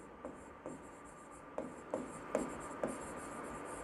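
Marker or chalk writing on a classroom board during a chemistry lesson, a series of short taps and scratchy strokes spaced about every half second, fairly faint with no talking.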